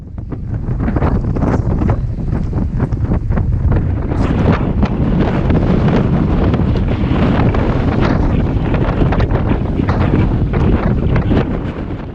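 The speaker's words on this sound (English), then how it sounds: "So the wind's picked up" Strong wind roars continuously over a singlehanded sailboat hove to at sea, loud gusty buffeting on the microphone with water and waves churning beneath, no voices.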